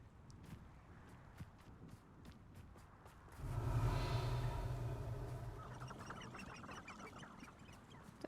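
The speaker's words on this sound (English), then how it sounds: "Oh, they're chickens." Chickens clucking in the Hogwarts Legacy video game, a cluster of fowl calls swelling midway and holding steady over a faint ambient game backdrop, moderately loud with no talk.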